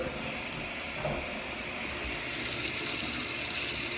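Water runs steadily from a household tap during a leak check in a rehab, a continuous hiss of flow near the microphone with no talking.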